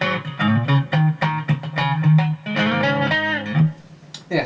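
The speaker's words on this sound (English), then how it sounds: "Let's go to this single coil on its own." Epiphone Nighthawk Custom Reissue electric guitar on its single coil pickup alone plays a quick, choppy riff of short plucked notes and brief bends, loud and close, with small gaps between phrases.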